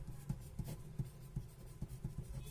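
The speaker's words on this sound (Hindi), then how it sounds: "तो सबसे पहले तो फॉर्मूला लिखेंगे हम" A physics formula is written out by hand during an electrostatics lecture, quiet rhythmic scratching strokes in short regular bursts, faint and close with no talk.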